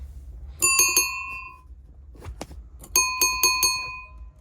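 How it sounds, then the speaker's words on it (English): A ding-dong chime on a sailing boat rings bright, resonant metallic tones in two quick clusters of rapid strikes separated by a pause, with a few lighter taps in between. "Bring back the ding dong to the boat."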